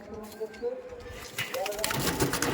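Pigeons shift restlessly in a loft, with soft cooing and fluttering rising into a louder rustle of wings near the end, while someone talks over them.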